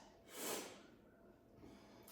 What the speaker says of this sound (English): And the sniffles.